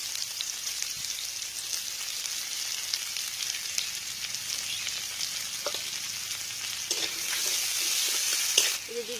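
Chopped onion fries in hot oil with bay leaves and five-spice, giving a soft, steady sizzle that carries throughout and builds slightly near the end, with a few faint stirring clicks.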